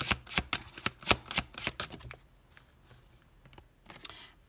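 Oracle cards from the Les Saisons de la Sorcière deck being shuffled by hand, a quick run of crisp riffling flicks for about two seconds, then a few softer scattered card taps, close and alone.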